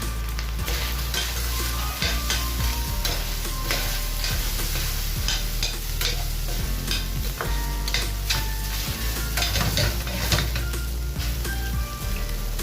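Beef for palabok cooking in a pot while being stirred, a loud, dense sizzle and bubbling with frequent scraping and clinking strokes throughout, close and continuous.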